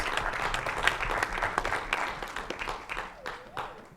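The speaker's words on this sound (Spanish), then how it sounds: "Un fuerte aplauso para nuestra expositora," Audience at a talk on information and social conflict applauding speaker Gabriela Báez, a modest, even round of clapping in a hall with faint voices mixed in.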